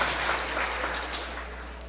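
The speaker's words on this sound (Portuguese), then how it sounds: "Vamos aplaudir ao Senhor, vamos lá." A church congregation applauding, a dense steady wash of clapping from many hands that fades slightly over a short stretch, with a low hum beneath.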